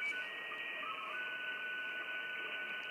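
A radio image transmission comes in as a faint, steady stream of sustained electronic tones that shift slightly in pitch, with no voices over it.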